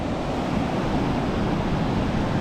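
Surf rolls and breaks along a sunny coastline as a dense, unbroken roar of white water, loud and close throughout with no voices.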